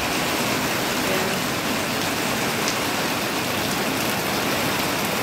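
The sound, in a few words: heavy rain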